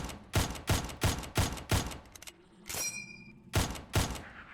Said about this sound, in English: 9 shots to kill those big guys with the pistol